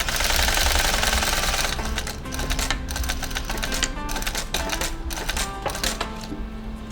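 Sewing machine stitching a leather round-zip long wallet in handmade leathercraft, a loud continuous mechanical clatter through the opening seconds, then quieter rhythmic stitching bursts with short pauses.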